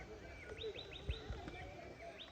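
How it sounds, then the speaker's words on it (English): Birds near a waterfall in Nairobi give a run of quick, high, upward-sweeping chirps, faint and close together, over a quiet background that ends in a soft low thump. "The bird chirps, the falls flowing"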